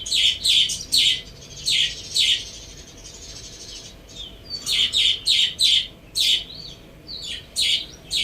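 Parrots call in repeated bright bursts: two clusters of shrill squawks and chirps with a short pause between them, close and loud over a low background hum.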